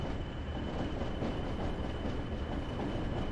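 A train runs steadily on rails as it nears a stop near Leeds, with a continuous loud rumble and faint clickety-clack.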